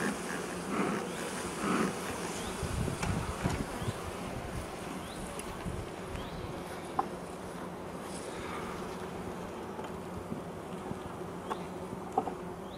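Honeybees buzz around opened beehives outdoors, a dense continuous hum that stays fairly soft and steady, with individual bees droning past now and then.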